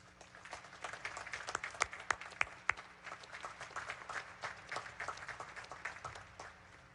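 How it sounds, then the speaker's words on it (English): Applause from a ceremony crowd honoring distinguished graduates at a Naval Academy commencement, a fairly quiet, steady wash of scattered clapping with a few sharper individual claps standing out, heard at a distance in a large venue. "Please join me in recognizing and applauding these distinguished graduates"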